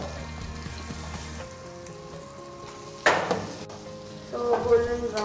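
Onion goes into hot butter or oil in a pan, giving a sudden burst of loud sizzling midway that settles, then swells again, over a steady tonal hum.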